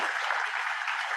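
A conference audience in Sitka, Alaska applauds its speakers with a brief, even patter of clapping, moderately distant and fairly quiet.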